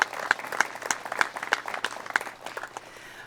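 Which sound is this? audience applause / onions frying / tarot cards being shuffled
audience applause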